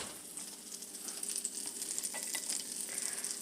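Garlic sizzles in a hot pan, a steady bright crackle and hiss with soft stirring scrapes, close and moderately loud with no voices.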